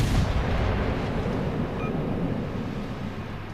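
Heavy World of Warships naval gunfire from armor-piercing shells, heard as a loud, sustained low rumble of cannon blasts that fills the whole stretch and slowly fades.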